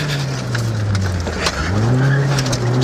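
A 1994 rally car braking hard on a British Rally Championship stage, heard from inside as a steady low engine drone that dips and slides in pitch with gravelly road noise, with no talk.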